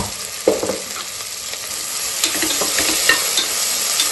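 Onions sauté in a pan for Coimbatore-style sea prawn biryani, with steady close sizzling and irregular scrapes and taps of a spoon stirring.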